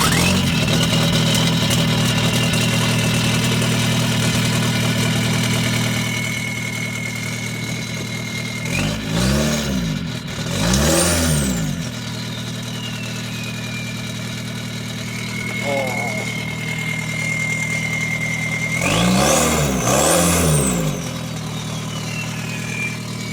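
A Dakota running a swapped-in TDI diesel idles steadily after starting, a loud continuous rumble with a couple of brief revs, while people talk nearby.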